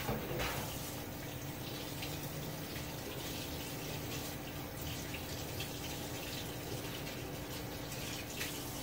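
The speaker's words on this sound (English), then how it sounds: "I'm gonna wash my hands, get the cheese off." Water from a kitchen tap runs steadily into a sink as hands are washed free of cheese, a constant close splashing rush that holds throughout with no talking.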